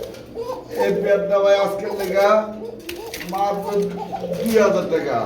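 Pigeons coo in a series of rolling, throaty calls nearby, loud and steady, with voices talking in the background.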